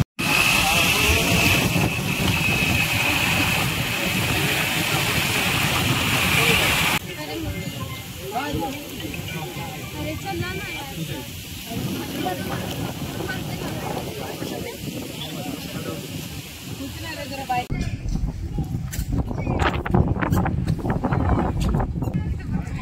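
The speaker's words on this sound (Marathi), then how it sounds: "एवढी प्रचंड हवा सुटली आहे ना की मला असं वाटत होतं मी डायरेक्टली जर बोलली ना तर आवाजच येणार नाही" Strong wind blasts straight into the microphone outdoors, a loud roaring rumble and hiss that shifts in strength as gusts change, while someone talks beneath it.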